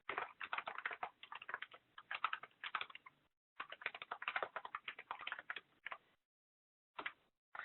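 Rapid keystrokes on a computer keyboard while typing a markup comment in PDF software, in three bursts of clicky tapping with short pauses, close and clear with no voices.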